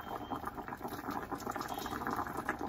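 A quiet, steady crackle and bubbling of grease heating in a pan on setting 6 for frying deer backstrap, continuous and close.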